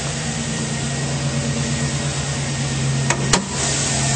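A 2009 Chevrolet Silverado 1500 LTZ Z71 4WD extended-cab pickup idles smoothly with its hood open, giving a steady low hum close by, broken only by a couple of sharp clicks near the end.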